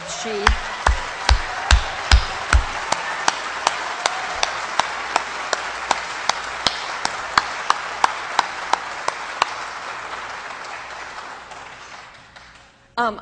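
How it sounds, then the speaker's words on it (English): A debate audience claps in a long, steady burst of applause, with sharp individual claps standing out at first before the sound thins and fades away. "please let's not waste a lot of our time tonight with applause and cheering"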